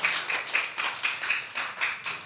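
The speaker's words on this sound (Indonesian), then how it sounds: "Tepuk tangan untuk Forum Kecamatan Dharmaraja." Scattered clapping for a local community forum at a regional talk show, a small group of hands beating in uneven bursts, moderately close and without voices over it.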